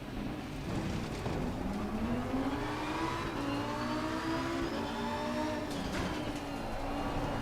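A race car engine in Assetto Corsa Competizione revving hard and steadily climbing in pitch as it accelerates, with brief drops at shifts, loud and continuous.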